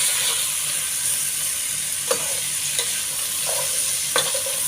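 Bitter gourd (ampalaya) stir-frying with plenty of onions in a pan, a steady close sizzle with a few sharp utensil scrapes and clinks as it is stirred, no talking.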